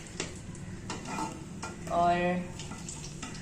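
Fish pieces frying in hot ghee, with a soft steady sizzle under clinks of a utensil stirring and scraping the pan, plus a brief rising hiss, close and moderately quiet; a voice says a single word.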